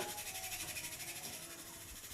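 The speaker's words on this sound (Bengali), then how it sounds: "আমি একটু জল দিয়ে এটাকে সিদ্ধ বসিয়ে দিচ্ছি" Tamarind simmering in water in a pot on a stovetop gives a steady, continuous boiling hiss with faint bubbling, even and unbroken throughout with no talk.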